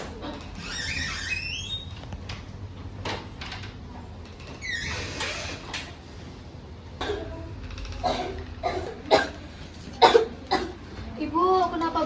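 A child coughs repeatedly in short bursts, with pauses between fits and some talking mixed in.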